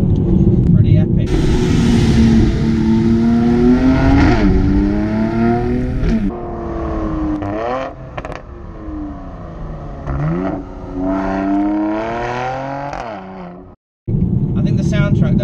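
A Mercedes-AMG C43 engine revving and accelerating from inside the car, a loud droning tone rising and falling through gear changes, with talk heard over it and a brief cut near the end.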